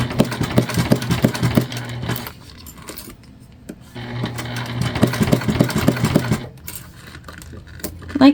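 Sewing machine stitching clear and jelly vinyl on a bound bag, running in two steady, rapid bursts with a quiet pause between them, fairly close and loud.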